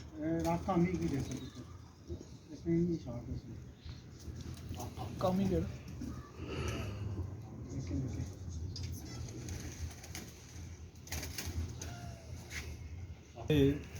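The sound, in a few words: pigeon of the Choogu breed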